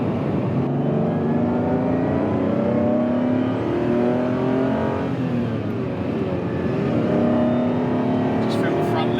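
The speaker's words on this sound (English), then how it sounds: "You've got that lovely induction noise." Ferrari Testarossa flat-twelve engine induction roar while cruising, a steady loud drone with rising and falling harmonic sweeps as the car accelerates, with someone talking over it.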